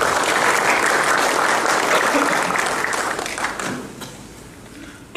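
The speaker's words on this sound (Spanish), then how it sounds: "en esta oportunidad lo recibimos con un fuerte aplauso" A seated audience gives a loud, steady round of clapping to welcome a speaker at a talk, sustained for several seconds before gradually thinning out.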